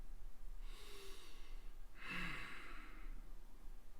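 Slow, deep breathing during a meditation practice with hands held in mudras: two soft, drawn-out breaths, one longer and fuller than the other, faint in a quiet room with no speech.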